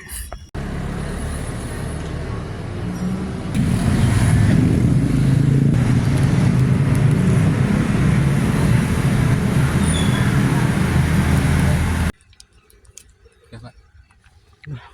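A street sweeper vehicle on a road near Bandung rumbles loudly, swelling into a heavy sustained engine and brush roar as it passes close by, then cuts off abruptly to near quiet.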